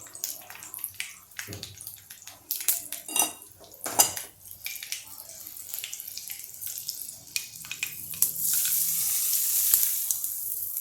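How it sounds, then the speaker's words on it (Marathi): Metal utensils clank and scrape repeatedly before a hot oil tempering with chilli and asafoetida is poured over dal-rice dhokla pieces, ending in a sustained close sizzle. "हा ही फोडणी याच्यात घालून घेते"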